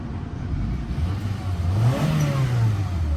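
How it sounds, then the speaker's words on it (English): A car engine revs up close, rising in pitch and then holding steady at a higher speed over a low mechanical hum. "Engine sounds good."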